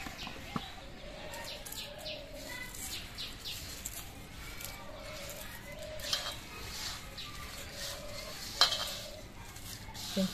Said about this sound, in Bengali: তো এবার আমি এই সব কিছু দিয়ে চাল ভাজাটা মাখিয়ে নিচ্ছি।